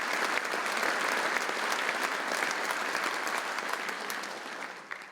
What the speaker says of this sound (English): Please give them a nice round of applause.